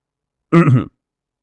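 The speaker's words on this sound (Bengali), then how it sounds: "চুনিলাল খুব করে একটা কাশি দিয়ে তার অস্তিত্বটা জানান দিল" A single short, gruff throat-clearing cough voiced by a man in a dramatized Bengali audio story, isolated and close against silence.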